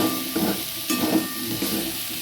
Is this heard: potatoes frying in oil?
yes